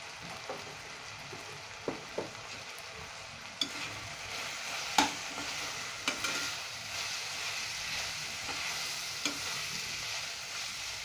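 Crushed red chili powder and garam masala roast in a pan for methi aloo, a steady close sizzle broken by sharp spatula scrapes and taps every second or two, with no talking.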